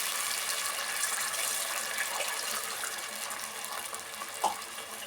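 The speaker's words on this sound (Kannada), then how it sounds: "ಅರ್ಧ ಗ್ಲಾಸ್ ಆಗೋಷ್ಟು ನೀರು ಸೇರಿಸ್ತಾ ಇದ್ದೀನಿ" Water for ghee rice is poured into a cooking pot in a steady, moderately faint trickling stream, with a small clink near the end.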